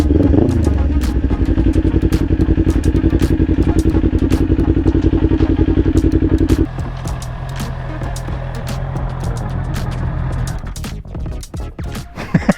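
Honda CBR650 big bike engine running close by, a steady loud drone whose pitch drops partway through, with faint clatter and a couple of knocks at the end.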